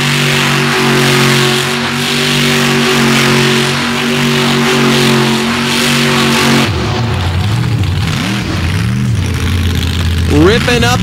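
A monster truck engine revs loudly on a clay dirt track at a Dragway 42 show, with a steady roaring drone that shifts into rising and falling revs, and a loud announcer talking over it.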